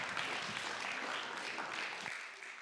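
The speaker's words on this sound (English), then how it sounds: "Let us give a better round of applause for Felicitas." Sustained audience applause at a children's summit session in Kenya, a steady wash of many hands clapping throughout, fairly close and even in loudness with no speech over it.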